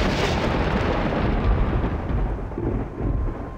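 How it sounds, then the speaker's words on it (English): Loud thunder rolls in one long, sustained rumble that lasts throughout, deep and heavy with no other sounds over it. "Thunder."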